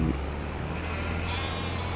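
Sheep on a farm bleat briefly in the first instant over a steady low engine drone that runs throughout, with a faint high whine rising later.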